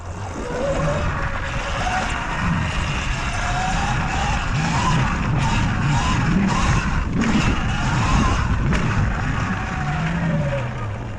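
An electric dirt bike with blown front forks and non-dirt tires rides a line outdoors, its tires skidding and scraping loose ground in a continuous loud rush, with wind noise and some voice underneath.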